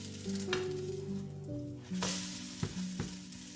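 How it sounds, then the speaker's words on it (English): Steady sizzling of oat and carrot batter frying in a hot pan, a continuous crackle with a few sharper pops and a low hum underneath. "finish frying it on the other side."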